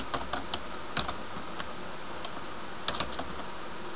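Computer keyboard keys are pressed in short scattered bursts of clicks against a steady background hum, close and fairly clear, with pauses between groups of strokes.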